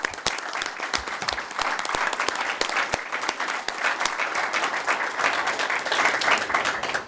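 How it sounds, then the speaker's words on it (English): Steady, dense applause from an audience at a state licensing board enforcement committee meeting, honoring individuals being recognized. Many hands clap close and continuously for about seven seconds with no voices over it. "So Let's give them a round of applause"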